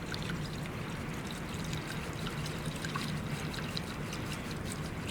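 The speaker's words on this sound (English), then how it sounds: "So from here, we can whisk again." Matcha green tea being whisked in a bowl after more water is poured over the paste, giving a steady, close, continuous swishing and liquid splashing with no pauses.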